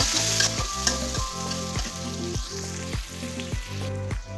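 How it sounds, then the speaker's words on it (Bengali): Steady, loud sizzling of chopped onion and chilli frying in a pan, with repeated rhythmic stirring scrapes roughly every half second. "এখন আমি পেঁয়াজ আর মরিচ ভালো করে ভেজে নিব"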